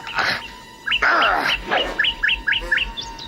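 Bright, rapid chirps from a cartoon bird, starting with a few louder calls and then running into a quick series of evenly spaced tweets, close and alone.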